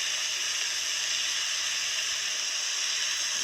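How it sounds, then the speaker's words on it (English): Cooking oil hisses steadily from a sprayer into a pan over low heat, a continuous even spray with no pauses. "I'm going to spray it because it needs to be oiled with a sprayer"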